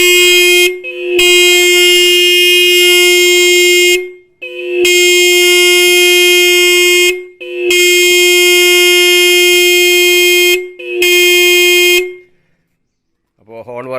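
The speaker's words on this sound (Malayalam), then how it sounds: "അപ്പോൾ ഹോൺ വർക്ക് ചെയ്യുന്നുണ്ട്." Motorcycle horn just repaired and tested on the bike: four long, loud, steady honks separated by short gaps, the last one shorter, then silence.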